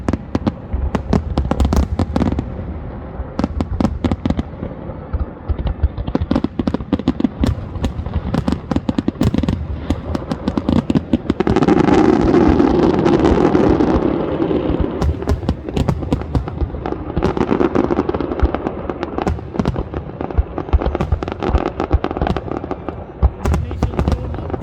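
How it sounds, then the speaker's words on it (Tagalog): Fireworks crackle and pop in dense rapid bursts for a long stretch, with rumbling blasts swelling midway, loud and continuous, at a New Year drone show at the Sheikh Zayed Festival in Abu Dhabi. "fireworks."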